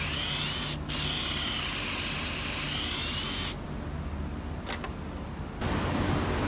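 A power drill bores a hole in a wooden fence gate or post, giving a loud, close, continuous whirring grind with brief pauses and a shift in pitch toward the end.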